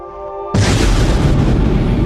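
A sudden, loud explosion boom bursts in after a quiet hum, then rolls on as a dense, sustained roar that fills the rest of the moment.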